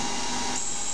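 A standard stub drill bores into 2011 aluminium alloy on a small lathe, giving a brief, steady high-pitched whine with a constant metallic hiss.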